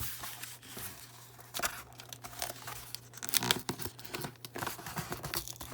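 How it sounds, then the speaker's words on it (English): Cardboard packaging being torn and crinkled open, a smaller box holding sports trading cards returned from grading, with ripping and rustling bursts that swell and fade, close up, no talking. "Let me open up the other box here, the smaller box that should have the other 15 cards in it."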